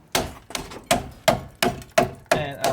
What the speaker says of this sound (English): Typically, most people would drill out these here, but I got this old trusty axe,